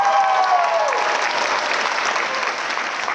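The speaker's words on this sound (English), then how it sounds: "Can we give another round of applause to the amazing E-Board for putting on this amazing show tonight?" Sustained audience applause fills a hall at a Pilipino student musical show, steady and dense throughout with a faint musical tone fading underneath early on.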